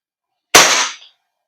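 WE Beretta M92 silver airsoft gas blowback pistol fired once at a cardboard target about 2.5 meters away, a single sharp close crack with a short rattling tail, alone in an otherwise quiet room.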